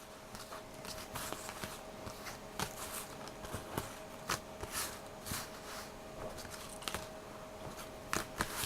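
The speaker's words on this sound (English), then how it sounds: "So I will shuffle his cards and randomly pick one." Playing cards from the Shadows Over Camelot board game are shuffled by hand, a soft, quiet run of irregular riffling and flicking clicks lasting several seconds.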